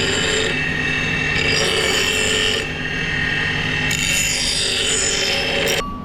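A farrier trims excess hoof wall from a horse's foot while fitting it for shoes, producing steady close rasping and scraping strokes that run continuously with brief pauses and no talk.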